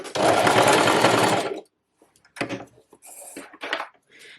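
A sewing machine stitches trouser fabric in a dense rapid whir lasting about a second and a half, followed by short clicks and handling of cloth and parts, close and loud.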